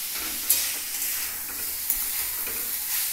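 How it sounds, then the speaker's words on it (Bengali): Vegetables for veg chowmein fry in a pan with a steady close sizzle while being stirred, with a couple of sharp spatula knocks against the metal and no voices. "আর একটু ভাজা ভাজা করতে হবে।"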